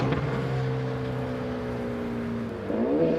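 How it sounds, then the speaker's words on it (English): Modified street cars drive past on the road to an evening meet-up, their engines droning steadily with a pitch sweep near the end as one goes by close, no voices over the rumble. "souped-up cars start passing on the way to the meet-up"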